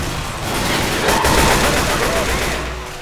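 Sustained gunfire in a shooting game, a dense loud roll of rapid shots blurring into one another across the stretch, with faint voices mixed underneath.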